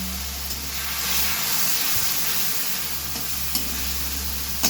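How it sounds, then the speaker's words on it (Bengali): Hot water poured into spice paste frying in a pan, a steady loud hiss and sizzle of steam that holds throughout, with a few faint clicks near the end and no talking. "আর সাথে সাথে একটু গরম জল দেব যাতে মশলাটা পুড়ে না যায়"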